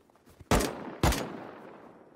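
Gunfire in the survival game Rust during a base raid: two loud, sharp shots about half a second apart, each trailing off in a long echoing decay, with a faint third pop near the end.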